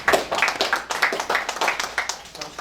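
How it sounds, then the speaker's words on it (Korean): A church congregation claps for the choir during a Korean Presbyterian Sunday service, with rhythmic, fairly loud clapping in distinct beats that reads like unison clapping in time. "우리 동부 제일 찬양대 위해서 다시 한번 큰 박수로"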